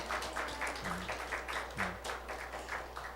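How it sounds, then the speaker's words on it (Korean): A church congregation at Connecticut Central Church applauds its choir and praise team, a faint, steady patter of many hands clapping under a low constant hum, with no clear voices. "우리 성가대를 위해 우리 찬양단을 위해서 우리 한번 박수로 격려하겠습니다"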